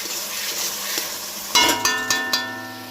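Yogurt chicken curry frying in oil in a pan, a close hiss of sizzling oil punctuated near the end by four sharp metallic clinks of a spoon against the pan.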